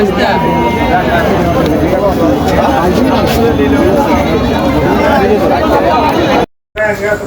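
A busy outdoor crowd murmurs and chatters at a goat market in Bangladesh, with goat bleats scattered through the hubbub before a brief cut to silence.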